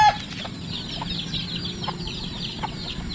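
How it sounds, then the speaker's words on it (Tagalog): Chickens and many small chicks on a farm, the chicks peeping shrilly and continuously over lower clucks from the adult birds, close and steady throughout. "Ang daming sisiw dito, oh."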